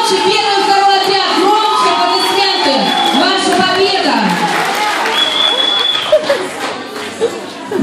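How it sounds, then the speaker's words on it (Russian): Loud applause and clapping from a crowd at a summer camp game, celebrating the first and second squads' shared win, with shouting voices mixed in throughout. "Громче аплодисменты. Ваша победа."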